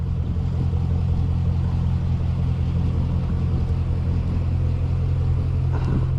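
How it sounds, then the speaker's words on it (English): A 2006 Chevrolet Corvette convertible with a six-speed manual gearbox rumbles with a steady, deep exhaust drone while driving, loud and continuous throughout with no voices. "The exhaust sounds amazing."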